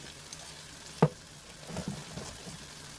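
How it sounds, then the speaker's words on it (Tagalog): Chicken pastel with chili stirred in a pan, a soft scraping sizzle with one sharp clack of the utensil and a few quieter scrapes afterward, close-up and with no talking. "Inikos-nikos mo lang"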